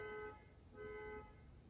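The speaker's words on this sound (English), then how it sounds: "There's honking." Two faint, distant car horn honks sound from outside, one short and one slightly longer with a pause between them, under quiet room tone.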